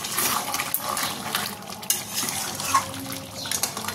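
Boiled chicken leg pieces stirred lightly in a covered pot full of released liquid, with soft wet scraping and clinks of a spoon against the pot in short irregular strokes, close by and moderately quiet.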